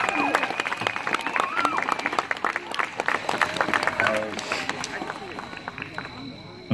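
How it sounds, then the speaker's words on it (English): A crowd applauds with steady clapping that carries on for several seconds, fading slightly toward the end. "so let's give Matt a round of applause"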